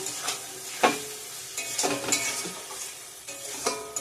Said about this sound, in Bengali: কষানো হয়ে গেছে সুন্দর করে তেল ছেড়ে দিয়েছে